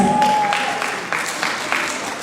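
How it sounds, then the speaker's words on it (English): Wedding guests applaud at a live-streamed celebration, a steady wash of clapping with a few sharper bursts, voices mixed in underneath. "Can we give them a round of applause, please?"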